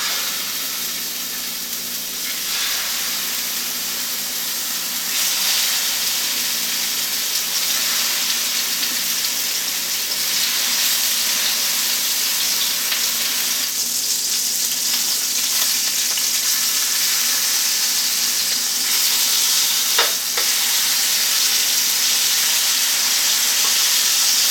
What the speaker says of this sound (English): we're going to put those pork loin chops in here to sear